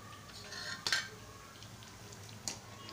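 Metal utensils lifting fried sabudana vadas out of a kadhai of oil, two sharp clinks a moment apart over a faint low background, with no talking.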